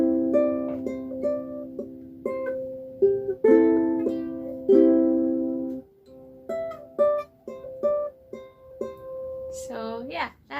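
Plucked ukulele strums and picked notes in a short rhythmic phrase, bright and close, with pauses between groups of notes and a few squeaky string slides at the end.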